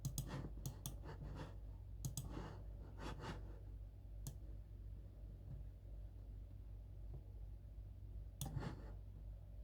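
Computer mouse clicks while a boundary is drawn on a map onscreen, a run of sharp dry clicks in quick bursts early on, then sparse single clicks, close and fairly quiet over a steady low hum.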